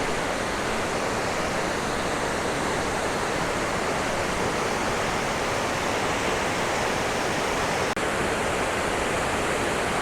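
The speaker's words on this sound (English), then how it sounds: "there's our target, Owharoa Falls." Owharoa Falls in New Zealand pours into a stream after recent storms, giving a steady, dense roar of rushing water that fills the scene evenly from start to finish with no talking.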